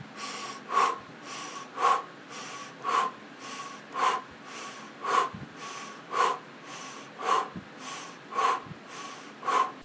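Forceful O-shaped breaths pushed out through the mouth in a breathing exercise, about ten in an even, steady rhythm, close and distinct with brief quiet gaps between them.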